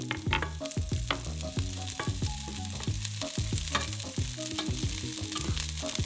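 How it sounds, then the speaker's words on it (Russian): Bell pepper cubes sizzle and crackle steadily in a hot frying pan while stirred, with scraping clatter throughout; close and continuous, no voices. "И отправляем обжариваться на сковородку."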